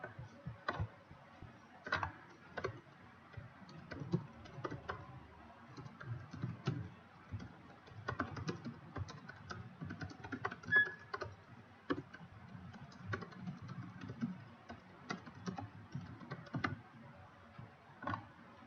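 Typing on a computer keyboard during a CCNA security lesson, with quiet, irregular bursts of key clicks close by, pausing and resuming throughout.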